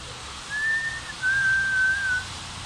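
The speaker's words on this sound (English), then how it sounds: "The whistle began at midnight." An eerie whistle in a Halloween tale sounds as two sustained, slightly wavering tones, a short one followed by a longer held one, fairly loud and clear over a faint hiss.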